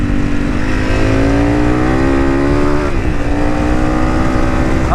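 A Honda CRF300 motorcycle in stage 4 setup running in fourth gear, its engine droning loud and steady as revs climb gradually, then dip briefly and build again, with wind rush throughout.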